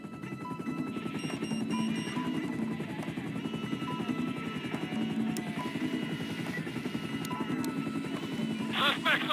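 A police helicopter in the video game GTA 5 keeps up a steady, continuous rotor thrum for the whole stretch, mixed with other game sounds.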